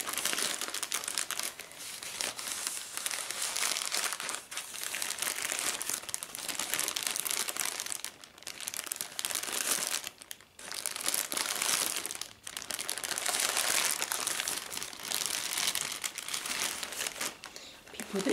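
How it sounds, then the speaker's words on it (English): Bubble wrap crinkled and crushed close to the microphone in a quiet indoor setting: continuous loud crackling and rustling in bursts with brief pauses, no talking. "First, I've got this bubble wrap."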